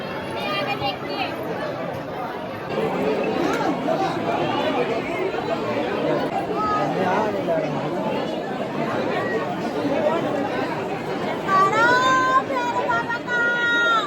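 A dense crowd of pilgrims murmurs and chatters at Bhairavnath temple, a steady close hubbub of many voices with occasional children's calls and a brief whistle-like tone near the end.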